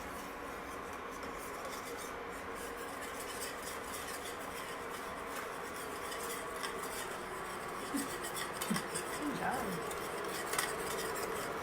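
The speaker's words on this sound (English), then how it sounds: "You can whisk it." A whisk scrapes and taps against a pan while thickening gravy for a Thanksgiving meal, quiet rhythmic metallic stirring with a few sharper clinks near the end, faint voices in the background.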